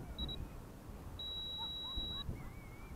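Beeping from the timer alarm on a radio-control transmitter for an RC airboat, with a short quick beep followed by a longer sustained tone, faint and outdoors over light wind noise.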